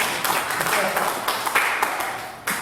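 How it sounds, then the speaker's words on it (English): Applause from attendees at a New York inbound marketing professionals meetup, a steady dense patter of hands sustained across the clip at moderate loudness, with faint voices mixed in. "So everybody, here's a round of applause"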